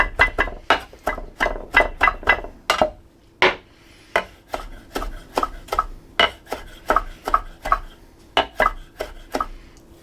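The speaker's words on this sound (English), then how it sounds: "I got that chopped up decent enough." Rapid, steady knife chops on a cutting board while ingredients for duck noodle soup are cut up, sharp close strikes in quick bursts with short pauses, no talking.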